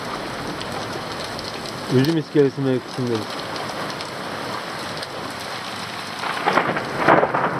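Heavy rain pours steadily while someone speaks briefly, with rustling and close clatter toward the end.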